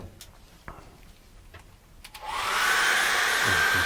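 A few light taps, then a hair dryer switches on and roars steadily, blowing on wet acrylic paint of a still-life flower painting.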